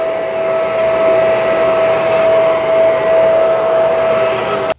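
A Bissell MultiClean Allergen Lift-Off pet vacuum runs steadily on carpet, a continuous close motor whine with a bright constant tone and no pauses, cutting off abruptly at the very end.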